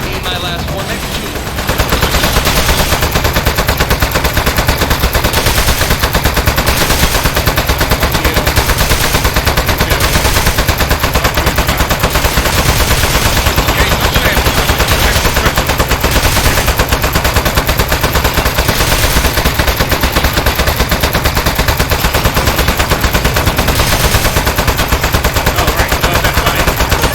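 Turret machine gun fire in Aperture Desk Job rattles loud and nonstop for nearly half a minute, a dense continuous burst with slight pulsing, following a brief quieter lead-in.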